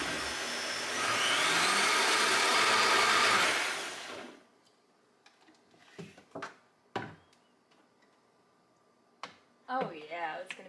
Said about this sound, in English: I like to blend it up a little bit so the chia seeds are a little chopped up